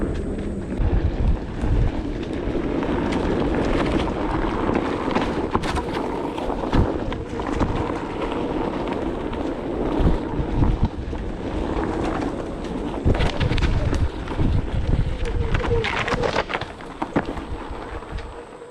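Steady, loud wind buffeting roars throughout while riding a Onewheel GT electric board outdoors, with constant low rumble and gusty bursts and no talk.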